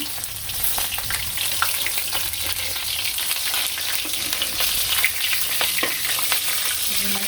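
Lentil fritters (bora) fry in hot oil in a village kitchen, a steady dense sizzle and crackle filling the whole stretch with occasional pops and spatters, close and fairly loud, no talk.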